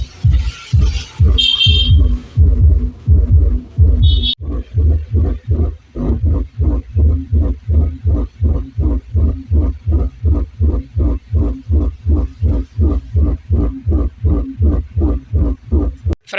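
Booming bass from a 15-inch subwoofer driven by a MOSFET 8000-watt amplifier in a tourist bus audio setup, a steady loud thumping beat with regular deep pulses and a brief brighter burst near the start.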